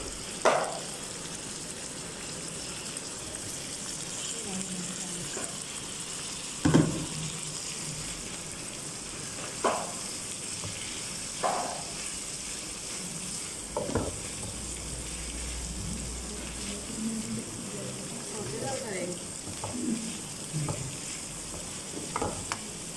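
Julienned onions stir-fry in a hot pan for chicken chowmein, giving a steady close sizzle with occasional sharp clicks and scrapes of a utensil every few seconds, no voices.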